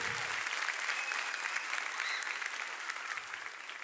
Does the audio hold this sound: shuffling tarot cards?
no